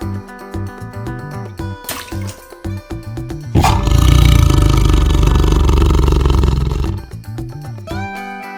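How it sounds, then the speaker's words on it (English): A tiger gives a loud, deep, sustained roar lasting a few seconds, set against a bright repeating musical backing that plays before and after it. "Tiger."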